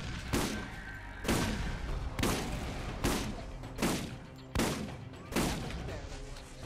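Shotgun blasts in the Borderlands video game, seven heavy booming shots spaced roughly evenly about a second apart, each with a sharp attack and decaying tail over a busy game-battle background.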